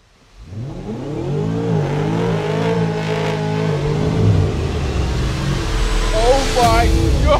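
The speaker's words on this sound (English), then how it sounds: "This car is an absolute maniac! Listen to that exhaust!" A Chevy Camaro ZL1 engine revs hard with a loud, rising exhaust roar, sweeping up through the gears close by, then surging again near the end.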